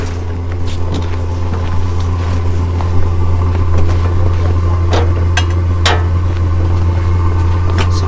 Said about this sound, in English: You hear the diesel heater firing up.